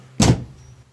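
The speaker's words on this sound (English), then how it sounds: "I put the handbrake on." The handbrake of an MBG GT car is pulled on in one short, close, rasping burst lasting a fraction of a second, followed by near silence.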